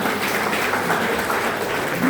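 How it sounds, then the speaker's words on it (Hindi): A room full of people at a religious community gathering in a temple claps together, a dense, steady wash of hand claps lasting a couple of seconds at close range. "कमेटी वाले सच में एक बार तालियां बजाइए पूरे 44 समाज के लिए"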